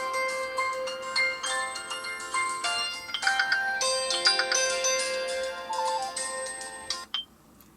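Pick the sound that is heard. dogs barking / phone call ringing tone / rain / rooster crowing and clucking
phone call ringing tone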